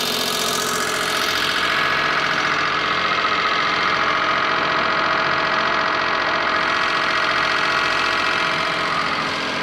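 A petrol engine mounted for a home cogeneration unit runs at idle, with a steady, loud mechanical drone and a slight knocking rattle that stays constant the whole time, close and alone.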